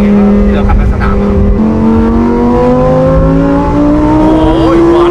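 A Lamborghini STO with a V10 engine drives hard on a race track, its loud, close engine note climbing steadily in pitch as it accelerates, with a brief shift partway through.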